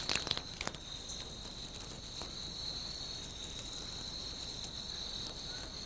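Cicadas in trees on a typhoon island give a continuous, high, steady shrill buzz that holds evenly throughout, with a few rustling crackles near the start.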